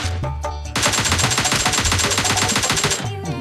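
Rapid automatic gunfire from bots in PUBG Mobile Lite, a few separate shots and then a sustained, evenly paced burst, loud and close.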